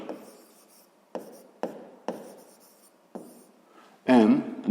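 Pen writing a maths expression on a surface, a series of short scratchy strokes separated by pauses, close and quiet, ending with a louder rubbing burst and a faint voice-like tone.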